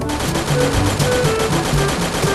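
Rapid gunfire in the Free Fire battle royale video game, loud continuous bursts of automatic shots with dense overlapping reports and no pause.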